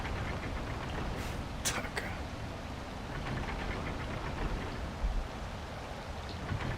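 Steady rain pours in the game Wild Hearts, a constant dense hiss with a few brief brighter splashes, heard alone at a moderate level throughout.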